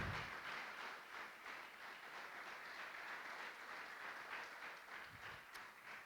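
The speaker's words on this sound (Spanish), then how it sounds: "Dale ese aplauso al Rey" Congregation applause during a church service, a steady wash of clapping that stays fairly faint and distant throughout, with no clear voices over it.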